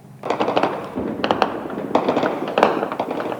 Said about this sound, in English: Gunshots echo through Goma